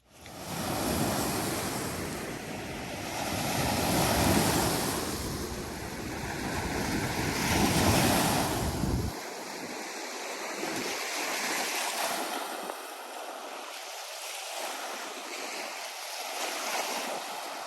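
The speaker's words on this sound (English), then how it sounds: "It's like the air was calm, but the water was really moving." Ocean waves with moving water on a calm day, a broad steady wash of surf rising and falling in loud surges for about nine seconds, then giving way to softer, thinner lapping and trickling water.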